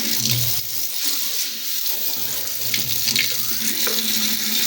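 A kitchen sink tap runs steadily, water splashing into the basin close by with a continuous hiss and a brief dip in flow partway through; no one speaks.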